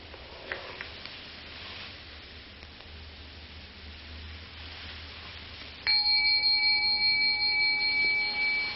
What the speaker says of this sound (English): the bell came out of nothing, floated off, and then stopped being a sonic echo